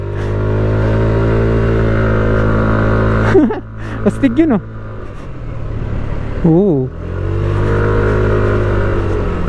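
A Yamaha NMAX 155 scooter labors up a steep road, its engine holding a strong, steady drone that dips briefly and then climbs again, while a rider talks and exclaims over the engine noise.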